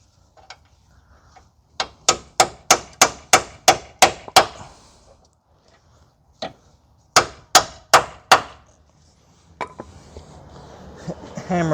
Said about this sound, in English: Hammer that on.